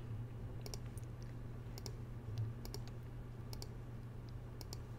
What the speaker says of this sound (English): I am just going to press the delete key